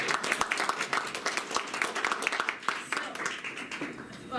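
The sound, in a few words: audience applause at a colloquium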